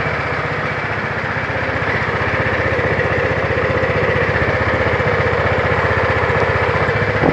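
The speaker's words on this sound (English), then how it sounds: "So I'm just running the engine, just getting it warmed up for a few minutes," Vespa GTV 300 ie scooter engine idling to warm up, a steady, close, even putter with a fast regular pulse, alone and unchanging throughout.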